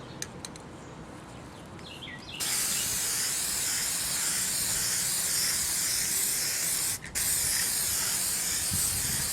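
High-heat spray paint hisses steadily from a can outdoors in the wind, a loud continuous spray that starts after a couple of seconds, briefly pauses, then resumes.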